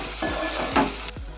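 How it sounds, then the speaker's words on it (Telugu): Onions and green chilies fry in a pan with a loud, close sizzle while a spoon stirs and scrapes through them in a few quick strokes. "నెక్స్ట్ ఆనియన్స్ కూడా వేసుకోవాలి. మంచిగా ఆనియన్స్ ఫ్రై అయ్యేంత వరకు"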